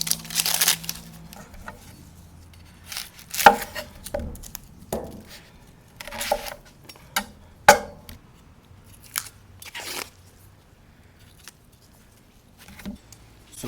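A knife cuts through onions for quick pickled onions, producing irregular crisp crunches and sharp knocks on a board, some louder than others, separated by quiet pauses.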